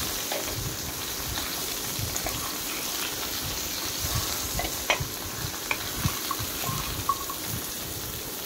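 Pointed gourd fries in oil with cumin as it is stirred, a steady loud sizzle with occasional scrapes and clicks of the utensil against the pan.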